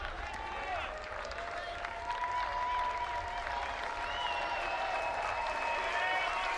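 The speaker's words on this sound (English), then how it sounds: "Crowd getting into it." At a college baseball game between Texas and Wichita State, a crowd applauds and cheers in a sustained roar with whistles rising over it, while a commentator talks underneath.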